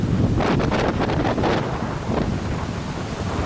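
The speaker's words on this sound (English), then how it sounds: "it is really, really windy, which I'm sure you can hear" Strong wind on the Appalachian Trail in Maine buffets the microphone in loud, gusty roars, with a broad rushing noise throughout and no voices.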